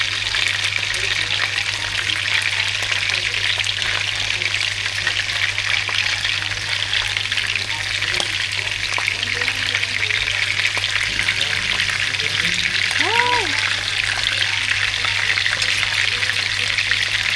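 Chicken pieces fry in a pan of oil and onions while cooking biryani, a steady dense sizzle under a low constant hum, and a voice talks briefly partway through.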